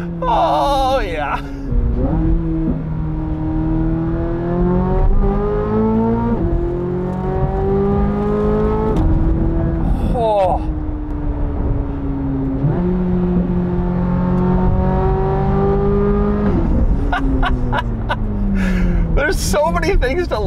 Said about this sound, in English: Flat plane crank V8 sounds absolutely incredible.